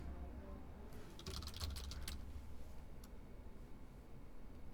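Fingers type on a computer keyboard to write notes in a JavaScript notes app, a faint quick cluster of key clicks in the middle over a steady low hiss.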